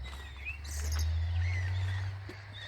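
Birds chirp in short, high calls at moderate distance by a manmade lake, over a steady low rumble.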